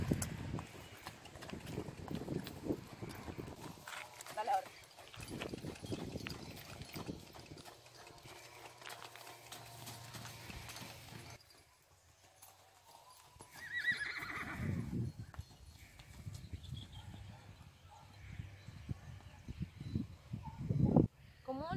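A Criollo horse works in an arena, with rhythmic hoofbeats coming and going across a long stretch, some quieter gaps between bursts, and background voices.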